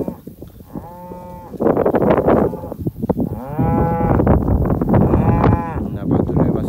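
A herd of about 90 cows with their calves on an alfalfa-based pasture under rotational grazing, giving several loud, drawn-out moos close by, one after another.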